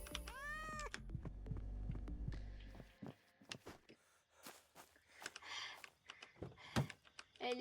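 A cat meows in a rising, pitched cry at the start in the video game Thief Simulator 2, followed by scattered clicks and taps like keyboard typing.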